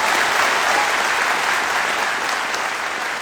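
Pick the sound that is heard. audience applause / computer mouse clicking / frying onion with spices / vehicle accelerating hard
audience applause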